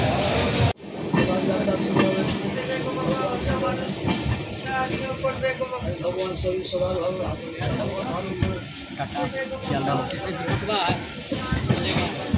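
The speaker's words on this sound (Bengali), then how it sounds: "শিয়ালদা ছেড়ে আমাদের ট্রেন পাড়ি দিল সাবরুম অর্থাৎ আগরতলার উদ্দেশ্যে" The Kanchanjanga Express passenger train with new LHB coaches, departing Sealdah, rumbling along the rails with rhythmic clatter, loud and continuous, with people talking faintly over the noise.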